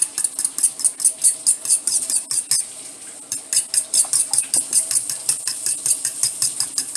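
Eggs are whisked in a bowl with a fork or whisk for scrambled eggs, making a steady, quick rhythmic clinking and scraping that repeats close up, with a brief pause midway and no talking.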